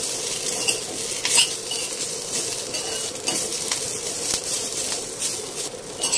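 Manglore-style chicken sukka masala roasts in a pan over low heat, with a steady sizzle under repeated metal scrapes and clinks of a spoon stirring against the pan, close and fairly loud.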